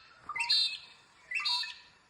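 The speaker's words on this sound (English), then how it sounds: "I think that might be a magpie lark." A magpie-lark gives two bright, shrill calls about a second apart, clear and fairly close, with no voices over them.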